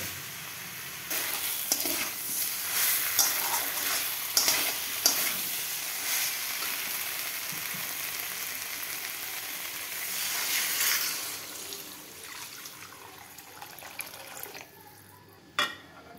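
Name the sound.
water poured into a hot pan of fish curry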